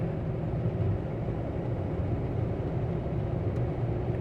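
Steady, even engine drone from a Jeep JK with automatic transmission, climbing a hill with overdrive engaged, heard from inside as a continuous low rumble with no noticeable change in pitch.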